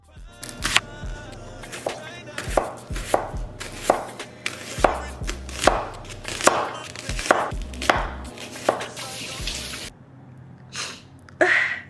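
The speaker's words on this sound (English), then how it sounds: "we're going to cut up 1 onion and slice it" A knife chops and slices an onion on a board in a steady run of close, sharp thuds, with sniffling and breathy gasps between strokes and a short pause near the end.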